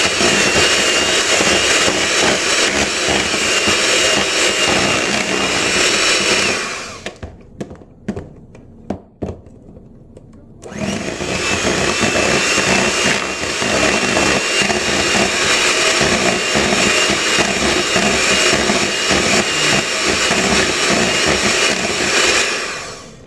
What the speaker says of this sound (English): On the lowest setting of the hand mixer,